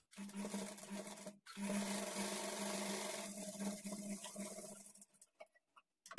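Sewing machine stitching darts on a lined blouse, a steady close whirring run that stops briefly, resumes, then trails off into a few soft taps.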